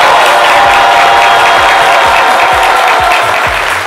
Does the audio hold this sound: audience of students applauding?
yes